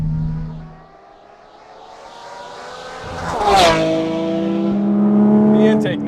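A loud Porsche Cayman GT4 RS engine drones at low revs, then surges and revs up sharply with a rising, harmonic intake roar before settling into a steady high hum.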